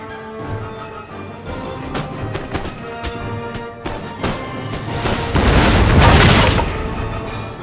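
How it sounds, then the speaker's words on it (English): Cannon fire from artillery batteries in Napoleon: Total War, a land battle with a string of sharp, booming shots at irregular intervals, building into a dense, rumbling barrage of overlapping blasts near the end. "right-click your mouse to order your cannons to attack"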